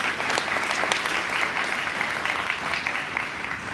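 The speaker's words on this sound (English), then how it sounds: "I think that deserves a round of applause." Audience applause at a bicycle summit, a dense, steady wash of many hands clapping from a large crowd, sustained at an even level throughout with no speech over it.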